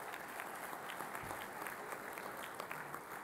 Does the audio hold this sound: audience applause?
yes